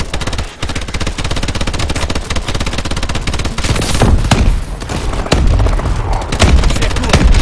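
Heavy sustained automatic gunfire with booming impacts from the video game Call of Duty: Advanced Warfare, loud and dense, continuing almost without pause.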